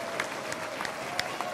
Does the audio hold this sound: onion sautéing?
no